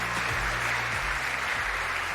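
A crowd at the 2026 KBO rookie draft applauds steadily, a broad continuous wash of clapping heard up close over a low rumbling hall background.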